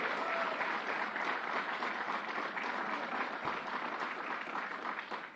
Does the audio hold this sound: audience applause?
yes